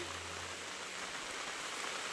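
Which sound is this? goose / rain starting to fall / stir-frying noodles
rain starting to fall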